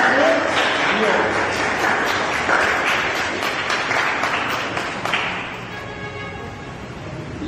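Congregation applauding at a baptism: dense, fairly loud clapping that tapers off after about five seconds, with some voices mixed in.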